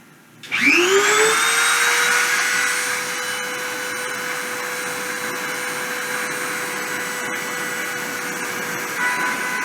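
A deposition machine spindle spins up to 30,000 RPM, a sudden whine that climbs quickly to a steady high-pitched tone and then holds as a constant, fairly loud hum.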